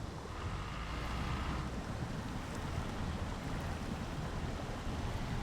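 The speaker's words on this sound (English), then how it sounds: "Spraying water everywhere." Vehicle driving through deep water in a snow modding video game, with a steady loud rushing and splashing wash of water and low rumble throughout.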